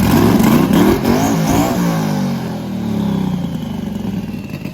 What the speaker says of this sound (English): Give her a quick rev.